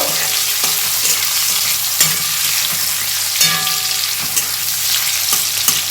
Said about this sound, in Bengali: বড় সাইজের টমেটো মিহি করে কুচিয়ে নিয়েছি। তেলেতে ভালো করে কষে নেব।